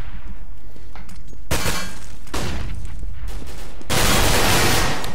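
Gunfire crackles in a competitive video game match, with sharp bursts and rapid volleys breaking through quieter stretches, growing loud and dense near the end.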